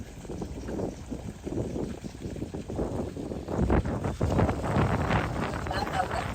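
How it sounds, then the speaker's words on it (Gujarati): Strong wind blows across open farmland in rough, rumbling gusts that rise and fall against the microphone and grow heavier toward the end. "પવન જ એટલો."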